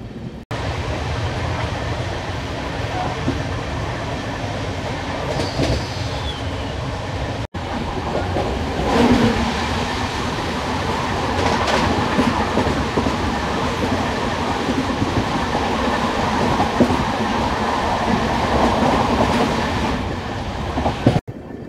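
The 12755 Kakinada Port–Bhavnagar superfast express runs at speed, giving a steady, loud rumble with rhythmic wheel clatter and rattling carriages that continues for the whole stretch.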